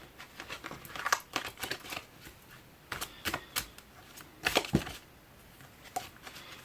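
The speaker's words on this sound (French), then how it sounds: "Il y a vraiment trop de cartes qui veulent tomber." Oracle cards being shuffled by hand, with some of them falling, heard as a run of soft crisp flicks and slaps in irregular clusters, faint and close by.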